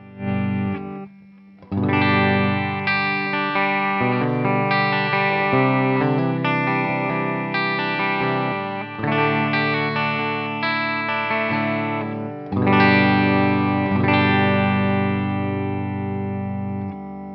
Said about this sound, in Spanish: vamos a empezar con el Tube Screamer apagado, escuchando solo el sonido de la guitarra para ver cómo suena